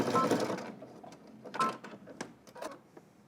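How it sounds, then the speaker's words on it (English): Home sewing machine stitching a 5/8-inch seam around baggy sweatpants, short bursts of rapid mechanical whirring and clicking that stop and start over a few seconds, close and moderately quiet. "we're just going to head to the machine and we're going to stitch all the way around here using 5/8 of an inch seam allowance"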